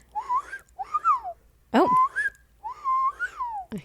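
A person whistles a few short, sliding tunes after mouth surgery with a dental device, the notes breaking off between phrases. A brief vocal exclamation cuts in near the middle, and a low hum sits underneath.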